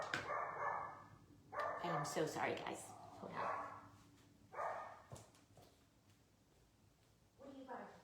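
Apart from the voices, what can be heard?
dog barking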